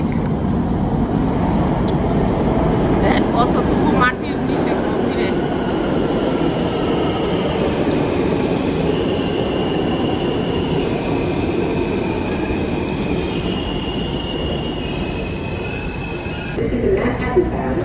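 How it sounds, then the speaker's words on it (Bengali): Loud, continuous rumble of a moving train in America with rattling wheels and faint high squeals drifting in and out, close and steady. "এখন ট্রেন নিতেছি"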